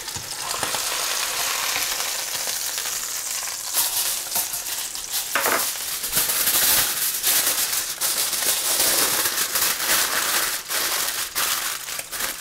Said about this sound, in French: J'ai fait cuire l'entrecôte 2 minutes par face.